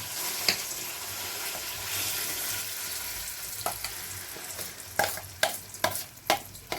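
Tamarind paste is fried in hot oil in a pan, giving a continuous soft sizzle. Sharp ladle knocks and stirring clatter come in the last few seconds.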